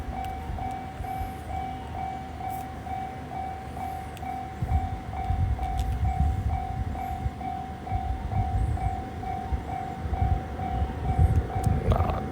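A train in Kyoto rumbles steadily at moderate distance, with a constant tonal hum and rolling wheel noise that swells and surges in the second half, no talk over it.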